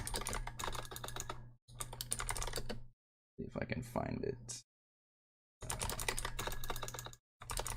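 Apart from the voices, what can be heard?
typing and clicking on a computer keyboard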